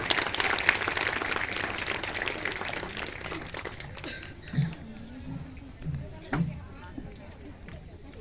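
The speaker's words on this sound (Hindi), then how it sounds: "सादर आमंत्रित करता हूं तालियों की गड़गड़ाहट के बीच श्री राजेश शर्मा को" A crowd at an honour ceremony applauds to welcome Shri Rajesh Sharma, a dense, steady clapping for about four seconds that then fades as someone speaks.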